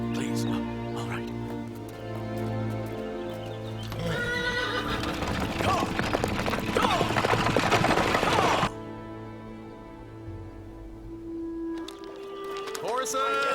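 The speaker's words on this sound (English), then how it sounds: "Horses for sale!" Horses whinny and hooves clop at a horse market in an ancient Chinese setting, a loud neigh rising over steady clopping and crowd bustle, with voices talking throughout.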